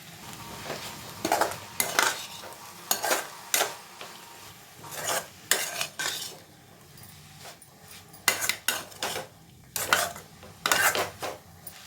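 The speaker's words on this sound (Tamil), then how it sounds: "சேர்த்துட்டு அப்படியே கலந்துக்க வேண்டியது தான்" A metal spoon clanks and scrapes against a pan in repeated bursts, mixing beetroot poriyal, with short quiet gaps between the stirring strokes.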